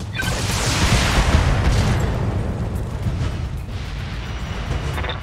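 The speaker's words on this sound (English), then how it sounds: "Firing." Weapons fire in the video game Battletech, heavy booming blasts and rumbling explosions in a dense continuous barrage, loud and close, with crackling bursts through the whole stretch and no talking.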